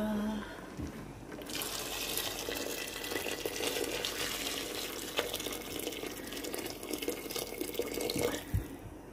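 Tap water pours steadily into a soup pot of vegetables, a continuous loud hissing gush with a faint drip or clink at the start and near the end.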